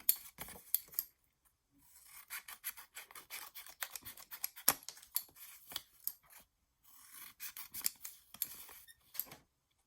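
Scissors snipping paper for a Christmas mini album, a close run of quick sharp cuts in bursts separated by brief silent gaps, no voices.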